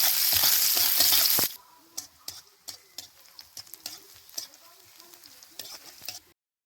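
Chopped onion and garlic hitting hot oil with panch phoron, a loud burst of sizzling that settles into a softer crackle with repeated stirring clicks and scrapes of a spoon against the pan.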